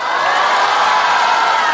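A studio audience at a stand-up comedy show applauds and cheers as a comedian is welcomed on stage, a dense, loud, unbroken wash of clapping and crowd noise.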